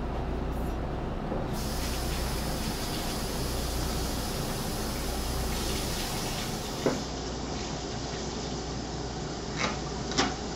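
Hot water pours steadily from a kitchen tap as a continuous hiss while a homebrew lager grain sparge is being prepared, with a few faint clinks near the end and nobody speaking.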